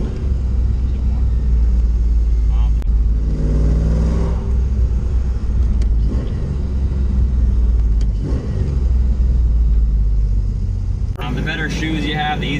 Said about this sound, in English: Braking, downshift, braking, downshift more.